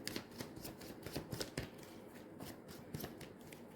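Tarot cards are shuffled and laid out in soft, close, rapid riffling bursts with crisp flicks and taps of card on card, faint and uninterrupted by speech.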